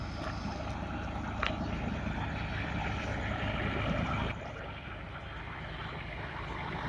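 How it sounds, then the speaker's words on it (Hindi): A continuous mechanical roar and rumble from a tractor-driven wheat threshing machine running steadily nearby, dropping slightly in level partway through. "ये देखिए जो भूस निकाल रही है मशीन, कितनी तेज़ी स्पीड से निकाल रही है"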